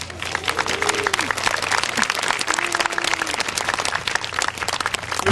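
Applause and cheering fill a school crowd's celebration of the newly opened East Lincoln Elementary School: dense, steady clapping throughout with some higher cheering voices rising above it.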